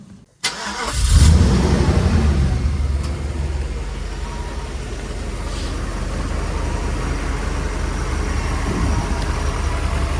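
A Mercedes car engine cranks and catches with a sharp burst, then settles into a steady, rumbling idle that continues close by for several seconds.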